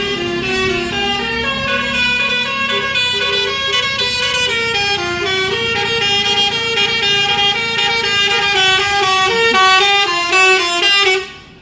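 Several buses pulling out of Terminal Baris Solo blare long musical multi-tone horns for about eleven seconds, loud and close, the melody shifting in steps until it cuts off abruptly at the end.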